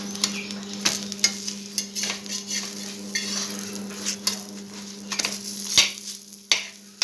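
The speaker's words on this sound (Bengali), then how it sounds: "এবার আমি আস্তে আস্তে রুটিটা এইভাবে ভেজে নেব" Roti frying in oil on a griddle gives a steady sizzle, broken by scattered clinks and scrapes of a utensil against the pan, with no talking.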